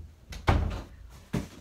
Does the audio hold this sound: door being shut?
yes